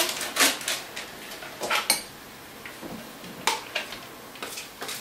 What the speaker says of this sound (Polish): Zaczynamy od serka mascarpone, który Mieszamy w pojemniku